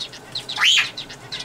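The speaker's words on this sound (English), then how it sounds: "These are my society finches, and there's a few spice finches in here too." Small caged society finches and spice finches give short high chirps and tweets, one louder rising-falling call standing out among faint twittering nearby.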